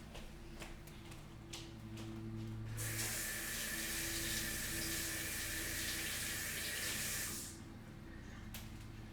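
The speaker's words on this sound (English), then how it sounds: "I'm going to wash my hand" Running tap water pours into a sink for a few seconds while hands are washed, a steady broadband rush that starts abruptly and cuts off, with faint ticking before and after and no talk.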